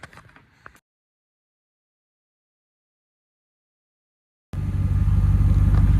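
After faint rustling and a long silence, a pickup truck engine suddenly roars into a loud, steady low rumble close by.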